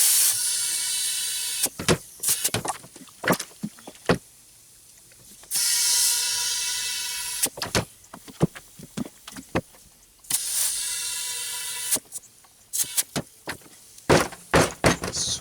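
An air compressor fills tires with air on a Suzuki GS500 mini buggy build, with loud hissing bursts of several seconds broken up by clanks and knocks of handling the hose and fittings.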